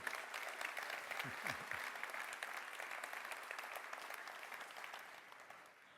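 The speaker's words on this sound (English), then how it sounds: "Big applause for these teams, please." An audience at the Techstars Transformative World Torino 2024 demo day applauds the startup teams, a steady, fairly distant wash of many hands clapping that fades slightly toward the end, with a brief murmur of voices in it.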